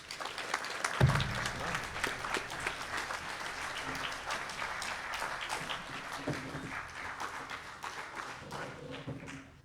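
Sustained audience applause fills an Eagle Scout court of honor, dense steady clapping from a large crowd that swells after a sharp opening thump and continues throughout, with a few faint voices underneath.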